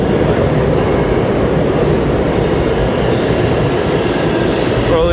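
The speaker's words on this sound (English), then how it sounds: "these 7 trains to Hudson Yards are just coming in one right after the other" A 7 subway train pulls into the 42nd Street–Bryant Park station in New York toward Hudson Yards, a loud, steady rumble of wheels on rails with a faint squeal of wheels at the very end.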